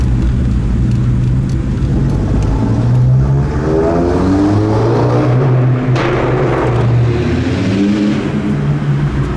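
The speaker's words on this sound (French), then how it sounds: "depuis tout à l'heure on entend les voitures qui tournent" Cars lapping a racing circuit at a Belgian burnout and drifting event, engines droning and revving in overlapping waves, loud and continuous as they pass nearby.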